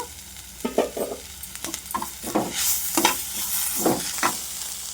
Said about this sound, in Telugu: కాస్త అల్లం వెల్లుల్లి పేస్ట్ వేసానండి ఇది కూడా చక్కగా అటు ఇటు తిప్పుకోవాలి